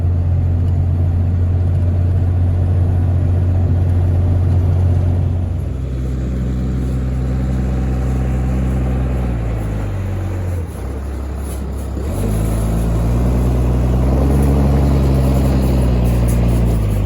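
Cummins diesel pickup truck towing a load of hay, its engine a loud, close, deep drone that steps down in pitch twice as it shifts, with cab road rumble underneath.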